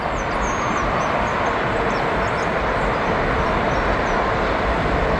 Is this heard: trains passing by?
yes